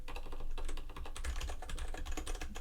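Someone types on a computer keyboard in a quick, close, continuous clatter of key presses, with no voices over it.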